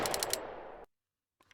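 A video game assault rifle fires a rapid full-auto burst for under a second, loud and close, then cuts to silence before a faint brief rattle near the end.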